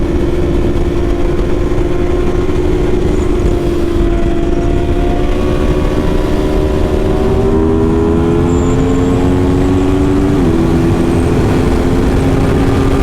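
A motorcycle engine holding steady in third gear, loud and close with a constant drone that shifts pitch slightly as speed changes, with no talking.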